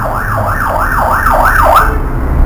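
Ambulance siren wailing close by, its rising and falling tone cycling about every third of a second over a low rumble of traffic, loud and steady with no voices.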